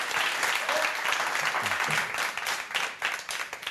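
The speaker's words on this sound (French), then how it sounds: "Applaudissements pour nos invités, applaudissements pour nos candidats" Studio audience at a French game show applauds guests and contestants, a steady dense roar of many hands clapping throughout with a faint voice briefly underneath.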